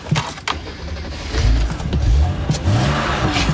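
A used Mercedes-Benz G-Class with about 140,000 miles idles and revs, a low engine rumble swelling partway through beneath clicks and rustles nearby.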